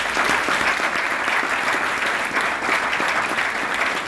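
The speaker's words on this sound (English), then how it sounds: "could you please do this one round of applause instead of a moment of silence" Steady applause fills a banquet hall at a university athletics awards dinner, a dense crowd clapping continuously and fairly loud for the whole stretch, with no speech over it.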